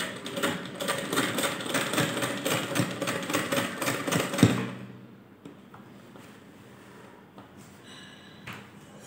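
A sewing machine stitching fabric runs with a fast, even whirring pulse for about four and a half seconds, then stops, leaving only faint handling clicks and low room noise.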